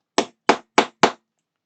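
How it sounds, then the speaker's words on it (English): A hammer taps a metal brake disc into place on a Toyota Supra scale model: four sharp, evenly spaced knocks, close and crisp, each dying away quickly, followed by silence. "I am going to use my hammer"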